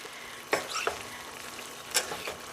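Spicy ground beef cooks in a pan with a soft, quiet sizzle, broken by a few sharp scraping stirs and spattering pops.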